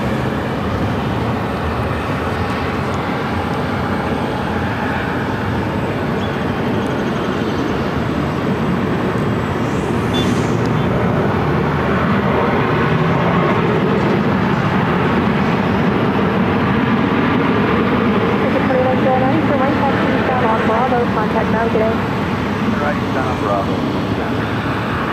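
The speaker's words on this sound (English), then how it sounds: "It's American Airlines Flight 2109 coming in from Las Vegas on a" An American Airlines Boeing 737-800 arriving at Phoenix airport from Las Vegas rumbles steadily through a broad, continuous wash of jet noise over the full stretch, with no talk.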